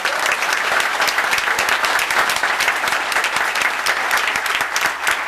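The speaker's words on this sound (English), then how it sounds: "Now, one more time, a round of applause, Patrick Walker." Loud, sustained applause from a large crowd at a town board meeting, dense clapping continuing steadily throughout with no voices standing out.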